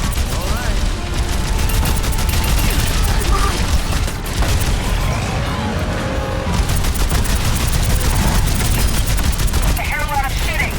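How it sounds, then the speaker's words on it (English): Sustained gunfire during a robot invasion in Overwatch 2, with dense rapid automatic bursts and mechanical clatter running loud and unbroken throughout, mixed with distant booms and game ambience. "I hear a lot of shooting."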